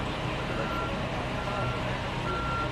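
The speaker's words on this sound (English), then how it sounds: "The sound of the earthquake alarm just before 8 a.m." An earthquake warning alarm sounds in Mexico City, a steady, loud tone repeating over a constant wash of street and crowd noise.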